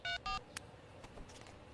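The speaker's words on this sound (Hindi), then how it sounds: "रुको, मैं कॉल करके देखती हूँ।" Two short electronic keypad tones beep in quick succession, followed by a faint click and quiet room noise.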